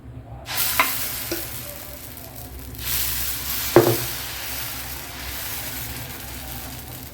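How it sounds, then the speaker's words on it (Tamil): Green gram dosa batter hits a hot griddle with a loud sizzle that swells from about half a second in and holds steady, broken by a few soft scrapes and clinks. "கல் காஞ்சிருச்சு தோசை ஊற்றலாம்"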